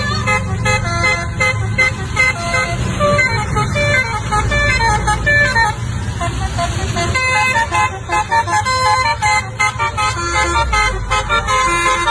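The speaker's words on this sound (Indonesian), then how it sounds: "Kali ini ada bus MSM Asap teman-teman." An MSM Asap bus on an Indonesian road passes with a low engine rumble, loud horn toots and a musical horn melody over traffic noise, continuous for several seconds.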